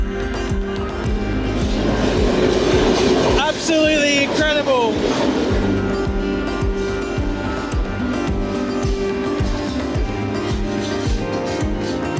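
A passenger train rolls across the Nine Arch Bridge in Sri Lanka, its steady rumble and rhythmic clatter heard close and continuous, with a brief squealing screech of wheels midway; people talk over the noise.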